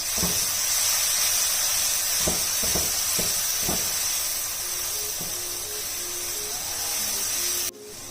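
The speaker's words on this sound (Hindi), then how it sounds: "मसाले को भूनते हुए मुझे हो गए हैं तकरीबन 3 से 4 मिनट" Spices frying in a pan for daal mash, a steady loud hiss and sizzle throughout with a few faint scrapes from stirring and a sudden drop near the end.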